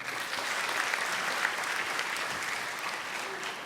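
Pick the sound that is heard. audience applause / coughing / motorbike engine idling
audience applause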